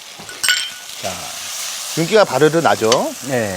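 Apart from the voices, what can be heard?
chop steak sizzling in a frying pan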